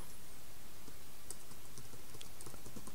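Computer keyboard typing while text is entered into a website editor: a quiet, irregular run of light key clicks spread across a few seconds, close by, with no voice.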